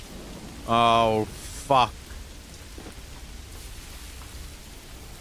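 Steady rain hisses over the Manor Lords landscape, a soft, even wash of noise throughout, with someone speaking briefly near the start.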